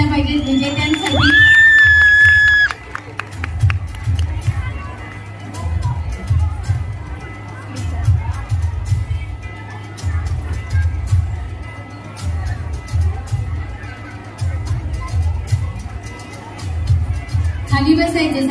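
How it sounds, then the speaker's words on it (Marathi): Audience at a folk dance competition (Potraj dance) in a hall, cheering, whooping and clapping for the winning team; a loud burst of whistles and shouts at first, then sustained crowd noise with voices mixed in. "जोरदार टाळ्या झाल्या पाहिजेत विजेत्यांसाठी"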